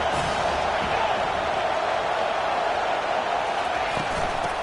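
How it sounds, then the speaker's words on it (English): A football stadium crowd at an Auburn versus Tennessee game makes a dense, unbroken roar that holds steady and loud throughout. "This crowd bringing the energy and noise early."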